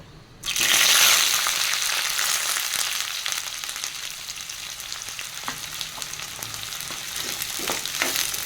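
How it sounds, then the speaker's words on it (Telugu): Chopped onions frying in oil over a medium flame for a dhaba-style egg masala gravy, a steady close sizzle that swells at the start and keeps crackling evenly throughout, with faint stirring scrapes. "రెండు కట్ చేసుకున్న ఆనియన్స్ వేసుకుని మీడియం ఫ్లేమ్లో వేయించుకోవాలి"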